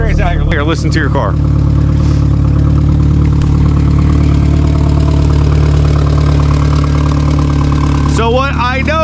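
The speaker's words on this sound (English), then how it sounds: "She got a hell of an exhaust leak." Volkswagen MK4 Jetta engine idling with a bad exhaust leak, a loud steady rumbling idle with ragged exhaust chuff, close by, with people talking at the start and end.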